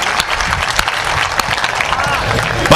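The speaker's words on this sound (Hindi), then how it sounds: "एक बार सारी तालियां उसके नाम पर बज जाएं" An audience at a Hindi comic poetry gathering breaks into applause, uneven bursts of clapping with a few sharp, loud claps standing out over the crowd.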